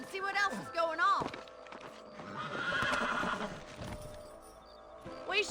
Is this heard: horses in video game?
yes